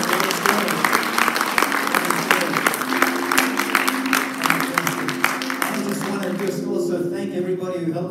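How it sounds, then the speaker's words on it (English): Sustained applause from a large audience at a church leadership event, steady and dense for several seconds before thinning out, with music or voices faintly underneath. "Give him a big hand of applause."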